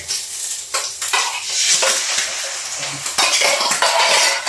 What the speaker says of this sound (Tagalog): Haluin lang na mabilis para maging scrambled eggs siya.